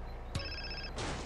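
A phone ringtone sounds in GTA San Andreas, a short, clear electronic tone lasting about half a second, then a burst of noise, all fairly faint against a quiet background.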